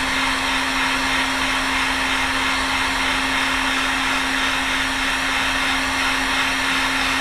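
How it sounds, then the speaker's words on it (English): Steady, loud roar of a heat gun on its low setting blowing hot air while reflowing motherboards, a constant whooshing airflow with a strong motor hum running unbroken throughout. "Got the heat gun set on low."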